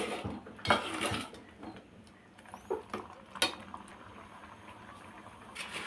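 Appalam kootu, a traditional lentil and vegetable stew, bubbles softly in a pot, with faint simmering and light clinks of utensils against the metal, fairly quiet and close throughout.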